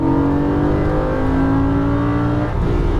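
A Lamborghini Gallardo accelerates at full throttle on a track in Las Vegas, its engine a loud, close, sustained high-pitched roar with rising tone throughout.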